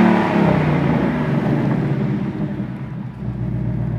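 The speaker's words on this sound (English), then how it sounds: "So this is the remote rev, new for 2024. You can basically rev up your Mustang from 20, 30 feet away." A 2024 Ford Mustang Dark Horse engine revs loudly and continuously through a remote rev, a deep close rumble that swells and holds with no talk.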